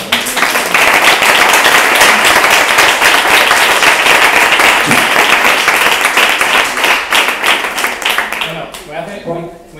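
A design conference audience bursts into loud, sustained applause, many hands clapping densely, before the clapping fades out and a voice takes over at the end.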